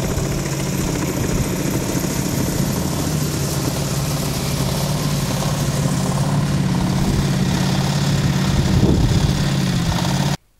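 A firefighting helicopter works over a forest fire in a pine grove, its engine and rotor drone steady and loud throughout, droning without pause before cutting off abruptly at the end.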